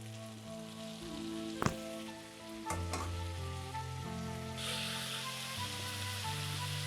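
Jumbo prawns frying in oil, a soft steady sizzle under a humming tonal background, with a couple of sharp clicks and the sizzle brightening toward the end, fairly quiet and without talk.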